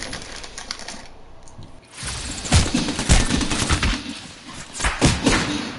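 Gunfire in Apex Legends, rapid bursts of sharp cracks in quick clattering succession, starting after a quieter opening second or two and continuing loud and near with uneven rhythm.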